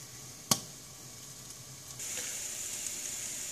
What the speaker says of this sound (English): the peppers have been roasting for approximately 7 minutes here, and you can really hear them sizzling